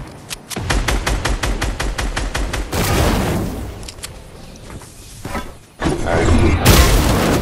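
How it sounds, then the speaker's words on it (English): Rapid bursts of gunfire from other players in the video game Fortnite, a quick string of sharp evenly spaced shots followed by heavier overlapping volleys and booms, loud and close throughout. "Oh, more people from our left shooting"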